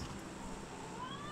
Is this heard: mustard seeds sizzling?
no